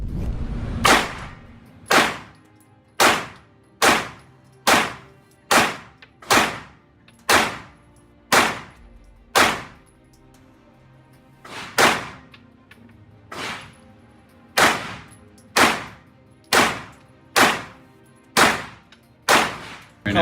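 Gunshots from a Bear Creek Arsenal BC 9 AR pistol at a shooting range, a long series of loud single sharp cracks at a steady, spaced rhythm with a brief pause midway.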